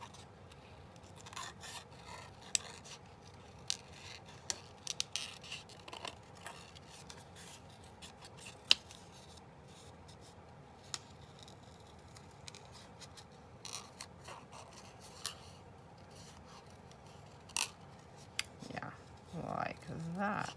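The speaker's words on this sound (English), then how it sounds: "I think I can try and cut that frame out." Scissors snip and rasp through paper while cutting out a paper frame for handmade tags, close-up with irregular short cuts and rubbing sounds, and a person talks quietly in the background.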